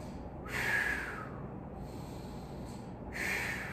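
Slow, audible breathing during a held stretch in a functional strength workout: two long airy breaths about three seconds apart, close to the mic, over a steady background hiss.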